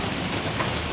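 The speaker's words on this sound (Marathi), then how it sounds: "तुम्ही बघू शकता किती जोरात असा पाऊस पडतोय" Heavy rain pouring steadily outdoors during a morning storm, a dense, even broadband hiss with no pauses, fairly loud and close.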